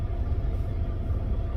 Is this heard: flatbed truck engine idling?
yes